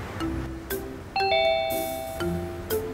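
A doorbell rings in a home with clear ding-dong chime tones that ring out and fade, repeated amid short percussive knocks.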